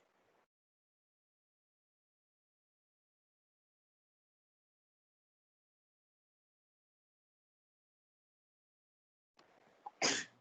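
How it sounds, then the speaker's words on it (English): A single sharp sneeze bursts out near the end after long near-silence, preceded by a short intake of breath. "I'm sneezing."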